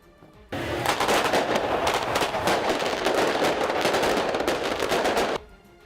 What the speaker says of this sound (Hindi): उन्होंने सर्गेई के जन्मदिन की खुशी में जमकर पटाखे फोड़े